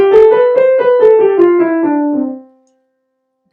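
A musical scale played one note at a time, about eight tones stepping steadily in pitch with a clear even rhythm, each note ringing briefly before the next and the last fading out, alone with no voices.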